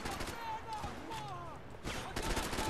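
Gunfire in the video game Max Payne 3, rapid bursts of shots with loud cracks toward the end, while people talk over the action.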